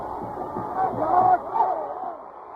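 A college football stadium crowd roars in reaction to a blocked 33-yard field goal attempt, with a dense, swelling wall of cheering and shouting.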